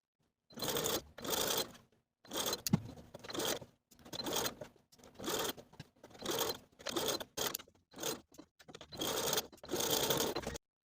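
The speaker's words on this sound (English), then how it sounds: "we're going to top stitch right below that collar neckline seam from one center back straight across to the opposite center back" A sewing machine top stitching along the collar neckline seam of a 1940s-style blouse, running in about eight short close bursts of rapid whirring stitches separated by brief quiet pauses.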